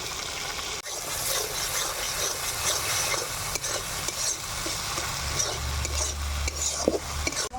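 A spice mixture with sour yogurt, salt, turmeric and a little sugar fries in a pan for a spiny gourd curry, making a close, continuous sizzle broken by repeated scraping stirs, with a low hum joining near the end.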